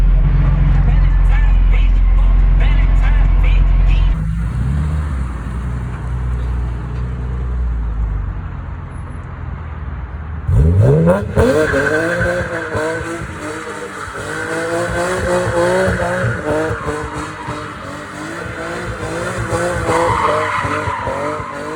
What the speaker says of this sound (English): This is my first time doing donuts